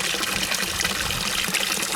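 Water rushes and splashes steadily in an aquaponics fish tank holding tilapia and goldfish, a constant close hiss of flow with no voices.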